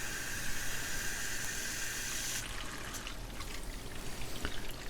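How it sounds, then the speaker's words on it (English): Water rushes steadily through a five-stage Apec reverse osmosis filter system with a fine hissing flow that thins midway to a softer trickle, close and continuous. "you can hear the water flowing through here"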